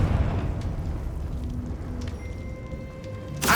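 A Confringo blasting spell in Hogwarts Legacy bursts into one sharp, loud explosion near the end, following a low, quiet rumble of game ambience.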